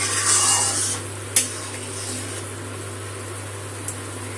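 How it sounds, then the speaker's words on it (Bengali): Spice paste simmering with water in a pan for a vegetarian pointed gourd curry, a soft continuous bubbling hiss with a low steady hum, marked by two brief utensil knocks. "মশলার জলটা দিয়ে মশলাটা ভালো করে ফুটিয়ে নিচ্ছি"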